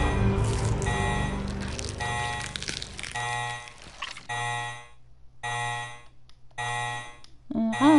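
An alarm blares in Resident Evil Code Veronica X, sounding in repeated bursts of buzzing tones with short pauses between them, laid over game music and ambience. No one speaks.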